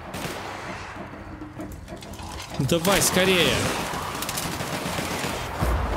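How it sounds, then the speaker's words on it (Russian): Blasts from a sawed-off shotgun in the video game The Outer Worlds, a loud burst of shots near the middle, heard under a voice and busy game ambience. "как раз с обреза стреляет. Супер выстрелы."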